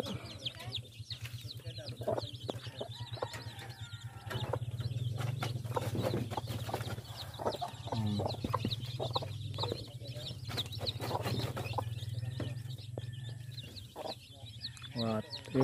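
A mother hen and her thirteen chicks in a roomy backyard coop. Soft, continuous clucking mixes with thin chick peeps and a steady low hum throughout.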